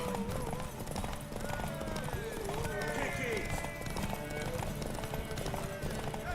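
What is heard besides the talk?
horse hooves galloping in The Witcher 3 video game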